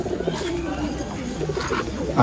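A racing pigeon coos softly and repeatedly in its loft, low rolling calls close by over light background noise.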